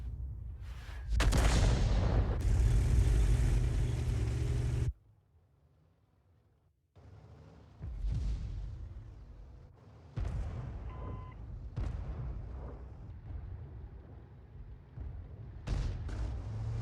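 Tank cannon shots in World of Tanks, including from an FV3805: a big booming blast near the start with a long rumbling tail, followed by quieter distant thuds and rumbles, with no talking.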